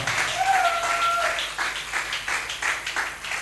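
A church audience bursts into applause, a dense patter of many hands clapping steadily for several seconds with a voice briefly heard over the start.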